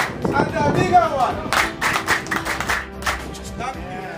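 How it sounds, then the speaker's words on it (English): A few sharp hand claps ring out at a lively 40th birthday party, an irregular burst of separate slaps heard alongside chatter and voices close by. "A big clap."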